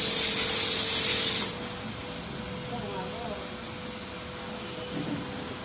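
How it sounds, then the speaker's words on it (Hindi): A foam wash sprayer blasts foam onto a Royal Enfield motorcycle with a loud, steady hiss that cuts off abruptly after about a second and a half, leaving a low background hum and faint voices. "अब टाइम है फोम वॉश, जिसके लिए मैं वेट कर रहा था काफ़ी देर से।"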